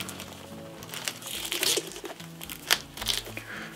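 Plastic wrapping on a newly bought manga package crinkles and tears in uneven bursts up close, with a few sharper crackles and rustles running through the whole stretch.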